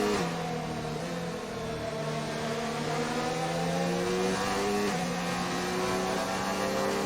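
A McLaren race car in an Xbox racing game at a Japan circuit holds a loud, continuous engine whine. The pitch climbs steadily through the gears, with a brief dip and then another rising run.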